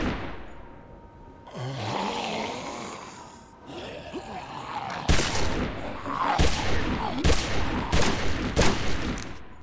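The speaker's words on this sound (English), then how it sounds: "Pulling out his gun, he begins to fire at the walkers." Lee fires his gun at walkers in Telltale's The Walking Dead game, a run of four or five sharp loud shots spaced about a second apart over rumbling ambience and muffled groans.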